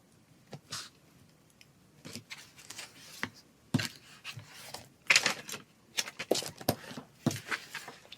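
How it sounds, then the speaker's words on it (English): Gyro-cut swivel craft knife cutting slowly around a paper outline of a figure, a series of short crisp scraping and snipping strokes with small taps in between, close up and with no talk. "See if I can use my gyro cut just to kind of gently cut this outline around her."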